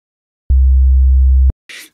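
Low-pitched test tone near 60 Hz: one steady, deep hum lasting about one second, loud and alone, starting and stopping cleanly, followed by a brief hiss.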